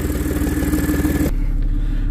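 Car engine idling steadily after a new MagnaFlow catalytic converter install, a low even rumble that holds close and loud, with a clattery mechanical layer that drops away partway through, leaving a smoother hum.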